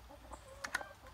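A broody hen clucks angrily at being lifted off her nest in a chicken coop, giving a few short, quiet clucks close by with no talk over them.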